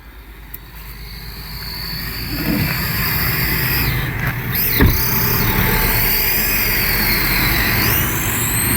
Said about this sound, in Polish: Sorry za hałas, ale stoję przy, przy autobanie.